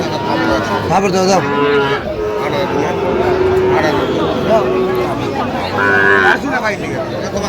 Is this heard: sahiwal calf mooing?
yes